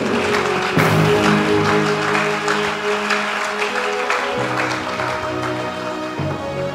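A church congregation claps and cheers in acclaim of the Lord, sustained applause filling the room under a low murmur of voices.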